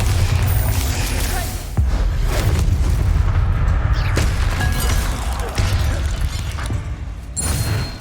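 Repeated heavy booming blasts from the Bombarda spell in Hogwarts Legacy, a loud, dense run of explosions with crashing debris that rolls on continuously, with brief gaps between bursts.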